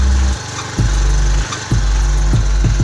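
A scooter engine revs as a first-time beginner rider works the throttle, a loud near putter that drops back and surges up again in uneven bursts.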